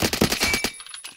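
Rapid pistol shots fired in a video game, about eight close, loud cracks in quick succession that stop abruptly, followed by a couple of fainter pops.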